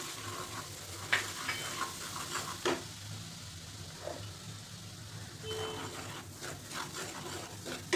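Semolina roasts in ghee in a pan for moong dal halwa, a low, steady sizzle with intermittent stirring scrapes and clicks, with faint traffic noise in the background.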